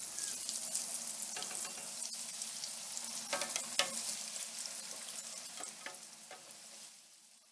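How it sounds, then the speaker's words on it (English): Coxinha, Brazilian chicken croquettes, deep-fry in oil heated to about 350 degrees. The oil gives a steady, dense sizzle with scattered crackling pops that slowly quiets toward the end, and no one speaks. "We only have to fry this for about 3 or 4 minutes until the coating is a golden brown color"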